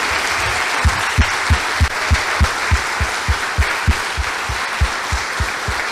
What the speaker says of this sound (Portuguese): Nós estamos aplaudindo a Jesus,